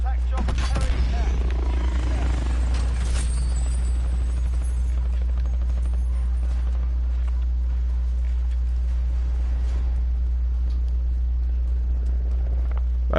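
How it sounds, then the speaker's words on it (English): A hostile attack helicopter in Call of Duty Warzone drones with a loud, steady low rotor rumble that holds throughout, with scattered higher clatter layered on top. "Hostile attack chopper carrying out."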